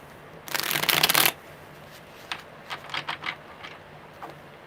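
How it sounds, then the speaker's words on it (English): Playing cards are riffle-shuffled in one quick, loud burst, followed by a few light taps and clicks as the deck is squared up. "One more good shuffle"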